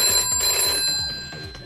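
A telephone rings loudly and continuously, a bright sustained electronic trill with no voices, on the set of a British reality TV spin-off show in 2006.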